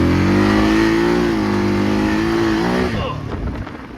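An ATV engine running on mixed gas revs loud and close with a steady, rising drone, then the revs drop away near the end.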